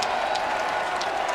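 Volleyball crowd at the Erwin Center rising to its feet for Texas in a fifth set, a dense, continuous roar of cheering and applause throughout.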